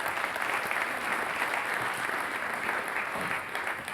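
An audience at a conference on the future of prosperity applauds the former president of Nigeria, Olusegun Obasanjo, with steady, dense clapping that stays even for several seconds with no talking.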